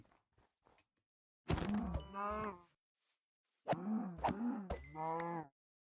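Two bursts of low, drawn-out mooing from cattle in Minecraft, each a few seconds long, separated by quiet, with a few faint taps in between.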